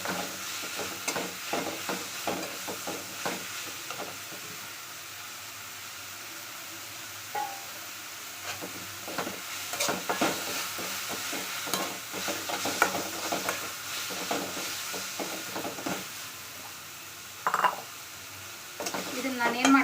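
Ingredients for pundi palle roasting in a pan with a little oil, soft sizzling under repeated scraping and stirring strokes of a spoon against the pan, close and fairly quiet.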